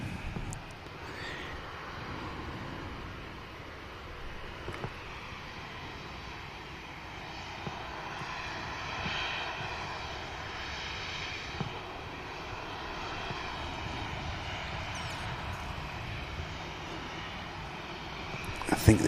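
An EasyJet airliner taxis at Manchester Airport, its engine noise a steady, moderate drone with tonal whine that lasts throughout, with faint voices and scattered bumps over it.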